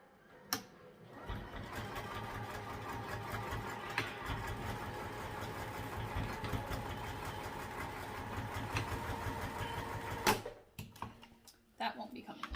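Sewing machine stitching a sling strap with webbing, a rapid steady mechanical chatter running for about ten seconds before stopping, close and clear, with faint handling noises at the start and end.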